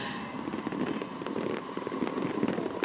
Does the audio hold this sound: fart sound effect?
no